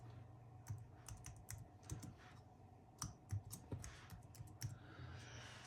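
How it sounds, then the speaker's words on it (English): Computer keyboard typing as a name is entered, a steady run of close, distinct keystrokes at an uneven pace, each tap clear over a low background hum, with no speech. "then I'm going to type in my name"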